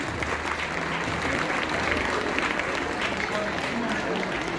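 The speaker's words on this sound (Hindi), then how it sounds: "बच्चों तालियों की गूंज रुकनी नहीं चाहिए।" Schoolchildren clap steadily at a Foundation Day celebration, a dense continuous roar of applause from a large crowd, with voices mixed into it.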